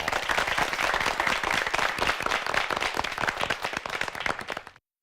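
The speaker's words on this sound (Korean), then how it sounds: "송준서 군을 박수로 환영해 주십시오" A studio audience at a televised high school debate competition applauds to welcome a debater. The clapping is crisp, steady and close, then cuts off abruptly near the end.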